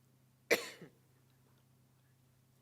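A single sharp cough followed by a smaller second cough or throat clear in a quiet meeting room over a low steady hum.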